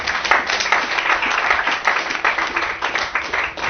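A church congregation breaks into sustained, dense applause, steady and fairly loud throughout, with scattered cheers mixed into the clapping.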